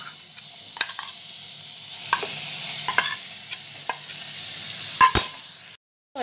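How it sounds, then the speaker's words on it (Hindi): Marinated chicken sizzles in about two tablespoons of hot oil in a pan for Kolkata-style chicken rolls, a continuous close hiss broken by sharp spatula scrapes and stirring knocks, then a brief cut to silence near the end. "अब हम इसमें मैरिनेटेड चिकन को ऐड कर देंगे।"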